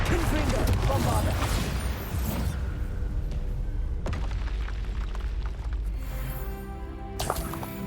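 Spell explosions from Confringo and Bombarda in Hogwarts Legacy: loud booming blasts with whooshing bursts, a dense rumbling opening followed by further sharp impacts around the middle and near the end.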